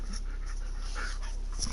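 A German Shepherd dog panting close to a microphone for a moment over a low steady hum, ending in a sharp brief click.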